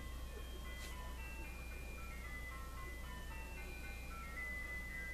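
An ice cream truck outside a house plays a Christmas tune, a faint, distant music-box melody drifting over a steady low hum of ambient noise, with no voices.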